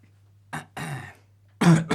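Three short, close coughs and throat-clearing bursts from a man, separated by brief pauses over a quiet low hum, with the final cough the loudest.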